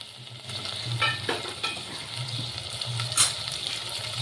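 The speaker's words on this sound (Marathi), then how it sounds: "हे कांदे आता सगळे कांदे यामध्ये टाकायचे आपल्याला." Chopped onions sizzle and fry in hot oil in a pan. The crackle holds steady and close, and a few stirring scrapes and clinks break in over it.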